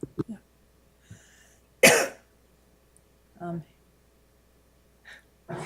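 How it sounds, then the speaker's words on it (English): Several sharp coughs and throat-clearing sounds break a quiet committee meeting room, scattered irregularly, one harsh and loud, others shorter and softer. "It's like we got a coughing crew here."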